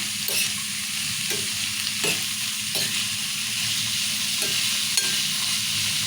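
Onion, tomato and red lentil curry cooking in a pan gives a steady close sizzle and bubbling, broken by a few sharp spoon-stirring scrapes against the metal.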